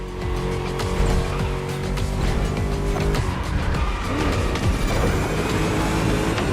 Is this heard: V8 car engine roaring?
yes